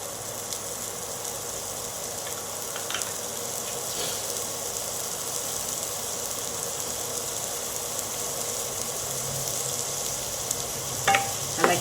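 Two chopped onions sizzle in hot oil as they are stirred in a pan for prawn gravy. A steady bright hiss of frying runs throughout, with occasional scrapes from the spoon and no talking.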